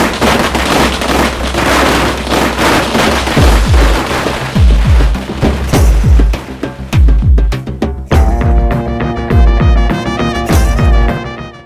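Firecrackers go off in rapid loud bursts, sharp bangs and booms crackling one after another, then a denser rattling volley toward the end.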